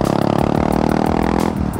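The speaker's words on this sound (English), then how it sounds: "Alexis loves her HMF exhaust." A Honda Grom motorcycle with an aftermarket HMF exhaust idles and revs with a loud, rough, throaty exhaust burble, close by, with some clattering.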